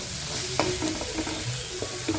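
Spoon scraping and stirring long beans with grated coconut in a pan, a few distinct clinks and scrapes over a soft sizzle, close and moderately loud with no talk.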